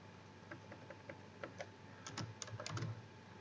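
Light, quiet typing on a computer keyboard, a short run of scattered key clicks that quickens into a denser burst near the end.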